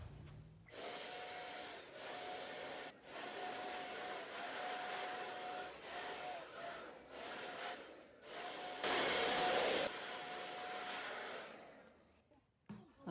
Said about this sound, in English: What I'm going to do is come over here to the scroll saw and cut out these 2 round pieces